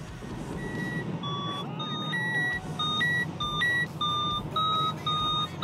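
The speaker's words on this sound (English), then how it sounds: "You go up and it beeps." Electronic beeping tones from a Naviter HYPER flight instrument repeat in short bursts, stepping up in pitch as it climbs, over a steady rushing background.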